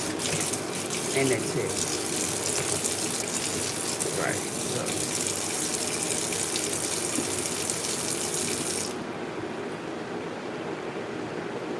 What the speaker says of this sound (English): So I'm just washing the dishes.